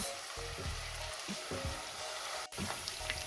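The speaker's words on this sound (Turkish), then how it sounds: "içerisine doğradığımız 2 adet soğanı koyup pembeleşinceye kadar kavurmaya devam ediyoruz" Onions sizzling softly in olive oil, a steady crackling fry with a brief clink of a utensil partway through.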